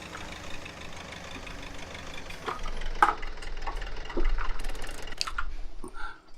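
A tractor engine running in a farming video game, an engine said to need looking at: a low, rough idle rumble continues throughout, while sharper clicks and knocks come and go over it.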